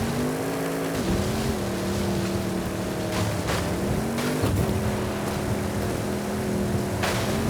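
Several racing car engines drone loudly together in an off-road Eliminator race in Forza Horizon 5, one pitch dipping and climbing through gear changes, with no talking.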